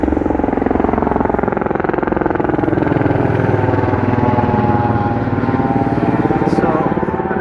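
Helicopter flying over the Las Vegas Strip, its rotor giving a steady, fairly close, rapid chopping thump that stays loud and even throughout.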